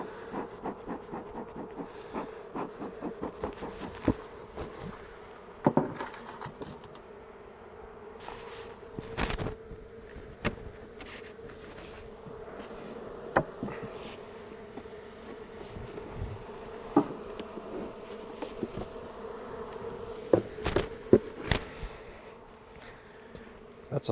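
Honey bees buzz steadily around a heavy hive opened for an after-winter check, a continuous close drone broken by sharp knocks and clatters of the hive parts being handled.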